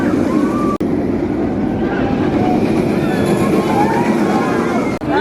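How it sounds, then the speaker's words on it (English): Velocicoaster roller coaster trains thunder past at speed, a loud, continuous rumbling roar with rattling track noise and a few sharp clicks, heard close by at a theme park. "They're running trains really fast right now."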